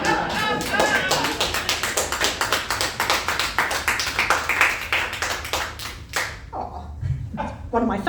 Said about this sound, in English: One of my favourite places ever to have a clapping break